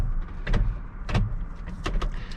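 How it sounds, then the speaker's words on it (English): An MGW race-handle shifter in a 2002 Mustang GT clunks through its notchy gates, four or five sharp mechanical clacks close by in a quiet cabin. "it is one notchy shifter"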